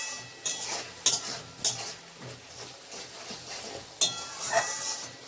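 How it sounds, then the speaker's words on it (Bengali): Yogurt masala with okra bubbles and sizzles in a pan, a soft simmering hiss under several sharp clinks and scrapes of a spoon stirring against the metal. "মশলাটা কি সুন্দর ফুটছে"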